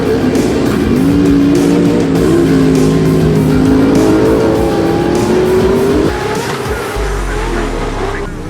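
Off-road race trucks roar close by, one engine revving high and holding a whining pitch before easing off, with a second engine droning underneath and faint crowd or commentary noise in the background.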